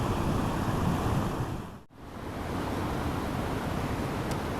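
A mountain stream in a gorge flowing in a constant broadband rush, steady and close, with a brief dip in level midway and no voices.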